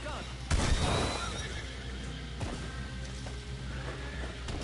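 A horse whinnies amid gunfire in the Red Dead video game, a loud shrill neigh near the start over dense, noisy action, with a voice talking through it.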